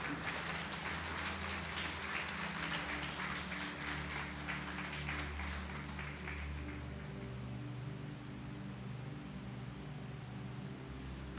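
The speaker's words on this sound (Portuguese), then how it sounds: "pode aplaudir. Aplauda ao Senhor." A church congregation applauds the Lord with dense, steady clapping that fills the room, even and sustained throughout, heard at a moderate distance with no talk.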